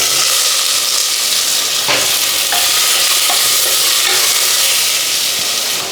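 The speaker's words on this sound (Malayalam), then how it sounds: "ജസ്റ്റ് ഒരു കുറച്ച് സെക്കൻഡുകൾ വഴറ്റിയാൽ മതിയേ." Small cubes of potato sauté in a hot pan for a Kerala potato breakfast dish, giving a steady close sizzle with scattered scraping stirs and clicks throughout, and no talk.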